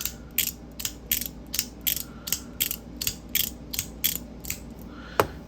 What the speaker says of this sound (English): So you get 1, 2, 3 clicks up and down, right? But then, like I said, it rotates.